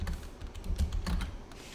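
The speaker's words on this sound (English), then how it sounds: "I know I have this mechanical keyboard. I kind of like the sound of keyboards like tapping on the thing" Clicky keystrokes on a mechanical computer keyboard, close and fairly loud, in quick irregular bursts with no talking.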